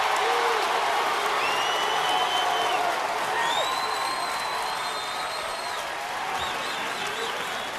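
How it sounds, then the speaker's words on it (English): Audience at a Steve Harvey stand-up comedy show in Augusta breaks into loud, sustained clapping and cheering, with whoops and whistles rising above a dense wall of applause that holds steady throughout. "I can stop all that clapping"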